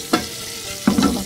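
Tadka tempering sizzling in hot oil, two close sharp hiss bursts as spices hit the pan, the second longer and crackling, with no talk.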